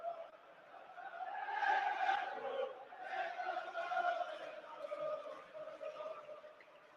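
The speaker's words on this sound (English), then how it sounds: "you can hear the crowd, Liverpool crowd" Liverpool football crowd inside the stadium during a Premier League match against Wolves, a steady mid-level roar of many voices that swells and eases in waves across the whole stretch.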